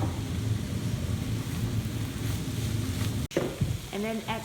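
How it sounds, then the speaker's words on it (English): Cooked mushrooms being mixed with seasoning in a pan, a continuous sizzle with stirring scrapes that ends in an abrupt cut, followed by a brief bit of voice. "we add the cooked mushroom and mix them well"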